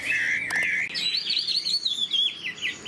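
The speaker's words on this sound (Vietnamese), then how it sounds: "xin mời anh em lắng nghe giọng hót của em nó thôi nhé" A caged, tamed hwamei songbird sings up close, a loud, bright run of warbling whistles and rapid chirps that climbs in pitch and keeps going without pause, with no voices.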